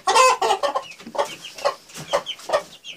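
Chickens cluck close by inside a coop, a string of short clucks and squawks coming every half second or so, loud and with no speech over them.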